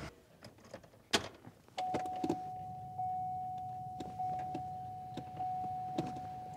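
Ventilated seat fans in a Cadillac Escalade spinning up, a thin steady whir that starts after a few clicks and thumps and holds on, with soft knocks and rustles nearby.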